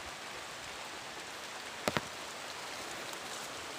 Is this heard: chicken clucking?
no